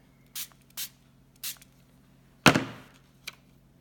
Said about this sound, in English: And then you're going to spray it with your spritzer.